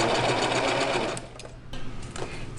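A sewing machine back stitching along the hem of a pair of pajama pants, its loud, steady whir running at close range before easing into quieter, intermittent stitching bursts.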